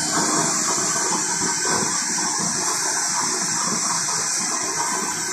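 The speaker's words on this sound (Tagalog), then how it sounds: "Pansinin nyo, tumutulo na, oh. Basang-basa na po sa flooring, oh." Steady rushing, splashing liquid overflowing from a waste oil stove onto the floor fills the whole clip with a dense hiss, pouring and spilling continuously nearby; no voices.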